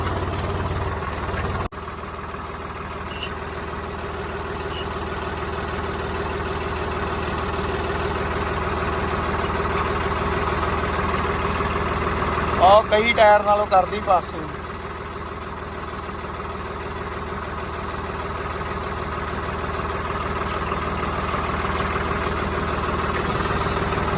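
A tractor engine idles close by with a steady, even low rumble throughout, while someone speaks briefly partway through.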